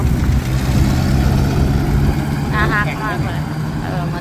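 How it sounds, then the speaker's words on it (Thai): An ice truck idles on a muddy rural road in the mountains, a steady low engine rumble running throughout at close range, with a voice briefly heard over it. "เป็นรถน้ำแข็งนะ"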